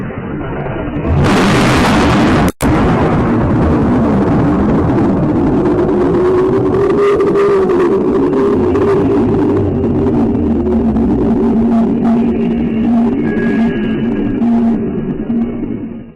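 A distant volcanic eruption recorded in Perth, Australia, more than 3,000 km away: a loud, sustained low rumbling roar with a sharp burst near the start, continuing as a broad booming wash for the whole stretch with no voices.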